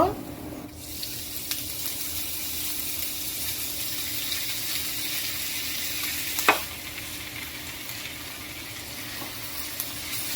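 Onions and green chilies fry in a pan with a continuous hiss and crackle, close and moderately loud, broken by a few stirring clinks and scrapes.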